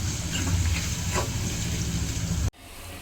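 Chopped tomatoes and chillies being stirred into papad vada masala in a hot pan, a steady close sizzling hiss that cuts off abruptly, leaving only faint room tone.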